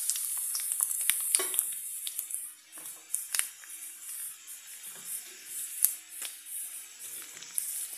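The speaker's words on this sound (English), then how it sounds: "So the oil is hot, you can use any oil. So to this I'm going to be adding the mustard, jeera, urad dal and the chana dal." Mustard seeds, cumin, urad dal and chana dal sizzle in hot oil, a steady bright hiss broken by scattered sharp pops and crackles, close and alone without any talk.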